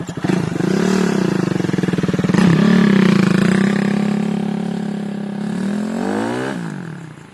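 A Suzuki Raider 150 carburetor motorcycle on a test drive after a clutch cable replacement, its engine loud and close, pulling steadily with shifts in pitch as it accelerates and then eases off.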